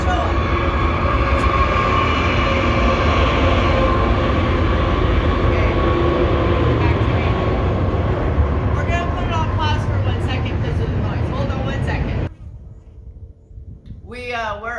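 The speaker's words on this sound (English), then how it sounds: "We're gonna put this on pause 1 second because we got a train." A train rumbles past close by, a loud sustained roar of wheels and cars that cuts off abruptly near the end, followed by voices talking.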